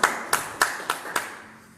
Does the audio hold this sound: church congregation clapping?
yes